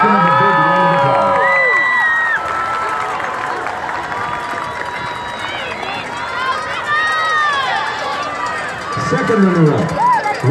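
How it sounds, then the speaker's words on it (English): A crowd cheers and whoops for the Varsity Cheerleaders at a school recognition ceremony, rising shouts and high calls layered over steady crowd noise, with voices mixed in throughout. "Let's give them a big round of applause"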